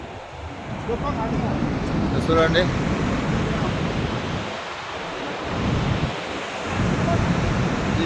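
Niagara Falls on the border of the United States and Canada roars with a broad, continuous rush of falling water, close and loud, while someone speaks briefly over it.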